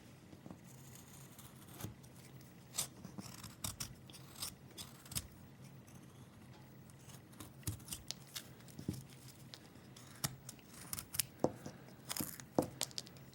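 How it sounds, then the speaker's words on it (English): Knife carving into wood while shaping an Old World Santa figure, heard as a string of short, close scraping and slicing cuts at an uneven pace, fairly quiet and with no voices. "I might want to use the knife to get a little deeper here"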